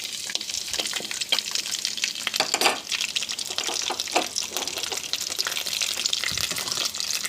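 Garlic, green chili and curry leaves dropped into hot oil and frying, a dense continuous sizzle dotted with sharp pops and spatters and a few stirring scrapes, close-up and steady with no talking.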